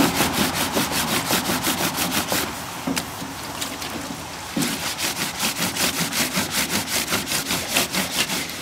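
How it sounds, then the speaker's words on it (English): Clothes scrubbed back and forth against a washboard in pioneer-style laundry, a fast rhythmic rasping of regular strokes that pauses briefly midway and then resumes, close and loud with no talk. "you would rub it against the washboard to get all the dirt and grime off"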